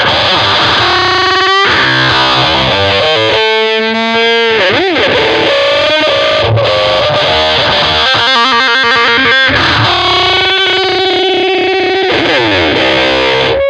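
Heavily distorted guitar-style tone with a warbling modulation effect, playing continuous riffs and sustained notes that break up into gritty, pitch-bending textures, loud and dense throughout with brief dropouts.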